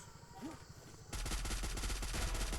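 MAC-10 submachine gun in a video game opening up in a loud, fast continuous burst after a brief quieter stretch, rapid shots close and sustained.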